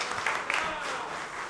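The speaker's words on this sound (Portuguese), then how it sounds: "Uma salva de palmas para o nosso querido Arildo Ratão" Applause at a formal city council ceremony honouring a guest, a soft sustained patter of many hands, with a voice speaking faintly over it.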